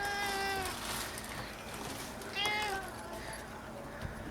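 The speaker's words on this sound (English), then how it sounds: "This little kitty has come to our door, and he's not even our cat." A stray kitten at a house door gives two clear, close meows, one at the start and another a couple of seconds later, with soft background noise between.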